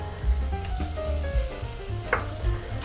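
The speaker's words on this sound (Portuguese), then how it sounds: "e refogo todos os ingredientes aqui." Rice ingredients tinted with saffron sizzle as they sauté in a pan, a continuous close frying hiss with low stirring thumps and occasional spatter pops.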